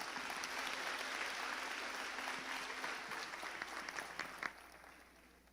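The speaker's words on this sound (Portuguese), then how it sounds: "Vamos receber a irmã Flávia Veloso com uma calorosa salva de palmas." A church congregation applauds a visiting woman preacher, with steady, fairly quiet clapping from a crowd that runs throughout and tapers slightly toward the end.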